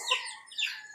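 Chickens clucking softly at a farm as they wait to be fed, a few short bright calls rising and falling over about a second, fairly faint with no voices.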